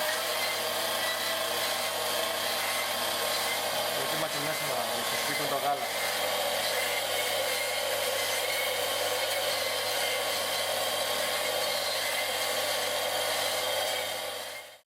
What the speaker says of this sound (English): you can hear the difference in the machine as it struggles.